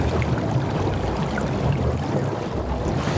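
A mix of sixteen mono underwater recordings forms a dense, continuous wash of rumbling and bubbling water noise, steady in loudness with no clear individual events.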